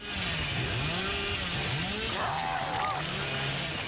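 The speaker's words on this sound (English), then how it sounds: "but the real joy comes from his secondary weapon, the chainsaw." Chainsaw of the Hillbilly killer in the horror video game Dead by Daylight, a continuous revving engine drone with pitch sweeps, loud and up close alongside other game sounds and talk.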